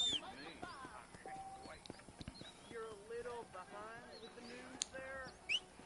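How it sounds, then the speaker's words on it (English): Horse hooves clip-clopping in the video game Red Dead Redemption, a faint rhythmic trot under steady talking, with bird chirps and soft game ambience in the background. "I'll go ahead and redeem my warhorse"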